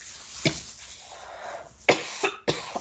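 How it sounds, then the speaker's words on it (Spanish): Several harsh coughs, one near the start and a quick cluster of two or three toward the end, close and fairly loud. "sigo con mi tos, me disculpo"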